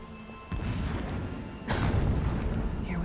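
Booming blasts in Horizon Zero Dawn, a low rumbling explosion kicking in at half a second and a second louder burst about a second later, both rolling on as a sustained heavy roar with no talking.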